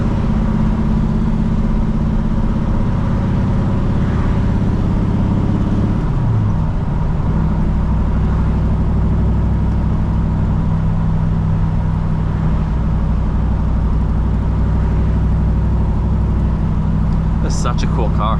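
A 1972 Dodge Demon 340 V8 with straight pipes drones steadily from inside the cabin while driving, with a low engine rumble and a pitch dip midway as it shifts, under occasional conversation.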